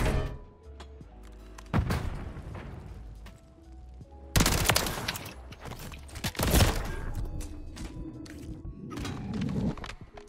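Rapid bursts of SMG gunfire crack out in a first-person shooter video game, with several loud sustained volleys and a few single shots between quieter gaps.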